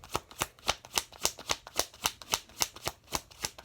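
A deck of tarot cards being shuffled, a brisk, even run of about fourteen crisp riffling slaps, close and fairly quiet, with no voices.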